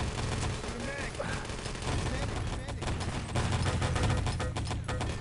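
Rapid gunfire in the ET: Legacy shooter game, dense overlapping shots and bursts packed close together, loud and continuous across the whole stretch with clustered cracks during a spawn fight.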